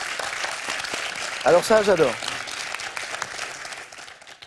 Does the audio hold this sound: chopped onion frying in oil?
no